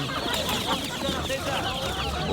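Chickens cluck in a busy Osmaniye poultry market, where ducks and turkeys are also sold, a dense near chorus of overlapping clucks over the whole stretch with faint crowd noise beneath.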